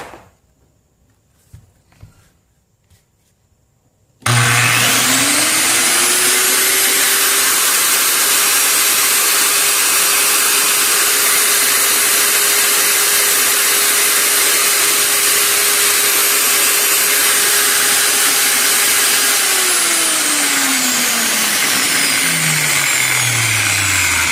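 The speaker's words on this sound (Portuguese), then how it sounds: "Vamos ligar de novo." An electric sander rewired from 110 to 220 volts starts abruptly after a short quiet stretch, spins up to a loud steady high whine that runs for about fifteen seconds, then winds down with a falling pitch as it stops.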